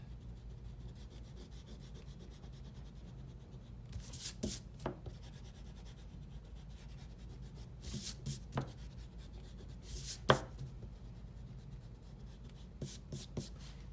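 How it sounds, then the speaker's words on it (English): An eraser rubs across paper, lifting pencil shading from a drawing of a metal spoon. Faint, close scratchy strokes come in short bursts against a quiet background, with no talking. "I'm going to try to erase on the inside"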